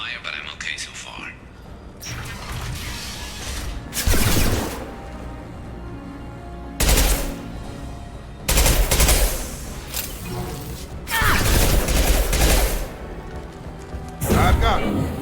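Gunfire in Mass Effect 2, heavy bursts of automatic weapons and impacts coming in several loud volleys between quieter stretches, with in-game character voices speaking.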